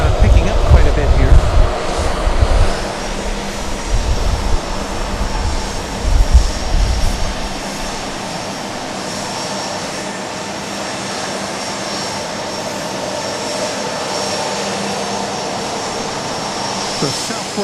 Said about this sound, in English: The Southwest 737-700 on the move right in front of us. That's the noise you're hearing.